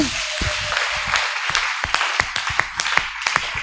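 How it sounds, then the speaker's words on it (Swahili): Members of a church congregation clap for themselves during a sermon, a series of sharp, scattered hand claps and taps over a hissy background, growing denser toward the end. "Jipigie makofi shujaa."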